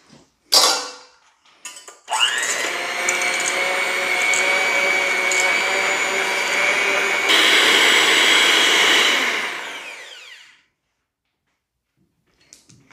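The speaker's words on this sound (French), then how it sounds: "je vais mixer ça au fouet" An electric whisk whips coconut milk cream, a loud steady whirring drone that starts after a few clicks and runs for about eight seconds before cutting off.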